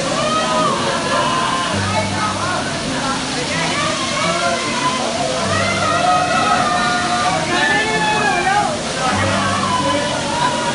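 Riva Waterfall near Solan, Himachal Pradesh, a continuous loud rush of falling water, with bird calls and other sounds faintly above it and occasional low hums throughout.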